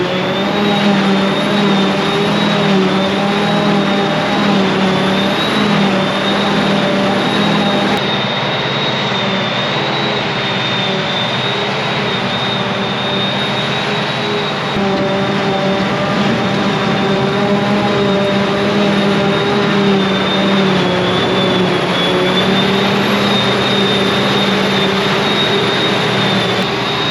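A forage harvester cutting silage: a loud, continuous heavy-machine engine drone with a steady high whine, close by and unbroken throughout.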